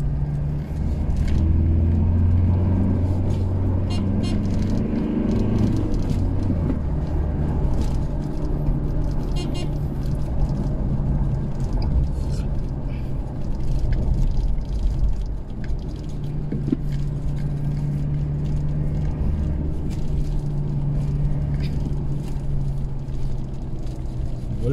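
A Toyota Hilux J pickup fitted with new tires and mag wheels drives along a road, its engine droning steadily from inside the cab with low rumble and road noise throughout, plus faint scattered clicks and rattles.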